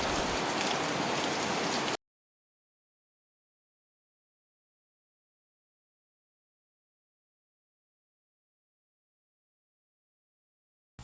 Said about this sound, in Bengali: তোমাদেরকে আবার আমি দেখাবো বৃষ্টি